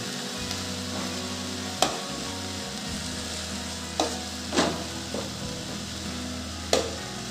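Asafoetida sizzles in hot oil on a low gas flame, a steady soft crackle of tempering broken by a few sharp clinks and stirring knocks, with no voices.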